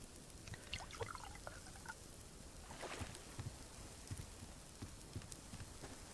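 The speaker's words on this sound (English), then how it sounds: "Refill our water." Water being refilled in the survival game Subsistence, a faint steady pouring and trickling with small drips and clicks over low background ambience.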